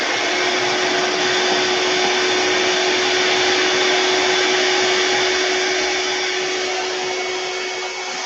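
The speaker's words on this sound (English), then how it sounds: "Vacuum this up." A shop vacuum cleaner running continuously, sucking up dust from a mini router table, with a loud steady roar and a constant whine throughout, close by.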